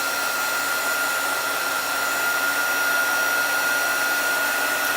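A hair dryer blows steadily to dry chalk paste lettering, a constant loud whirring rush with a high whine that holds unchanged from start to finish.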